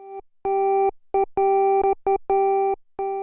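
A steady electronic tone keys on and off in short and long pulses, a clean synthesized Morse code pattern with a buzzy harmonic edge.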